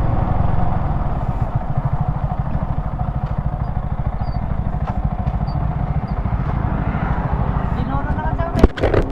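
A stock Yamaha R15v3 motorcycle fitted with a BRT Juken 5 racing ECU runs nearby with a steady, rough, rapid engine beat, a brief clatter near the end.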